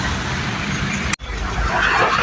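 Steady road traffic in Bulacan rumbles and hisses outside a vehicle, broken by a sudden brief dropout before the drone resumes.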